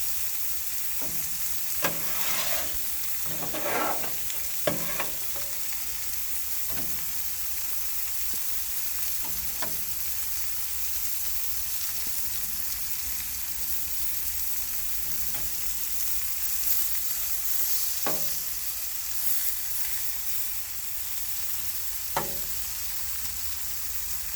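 Filet steaks with asparagus and mushrooms sizzle steadily on a Blackstone griddle, a loud, even frying hiss broken by occasional sharp scrapes and taps of a spatula.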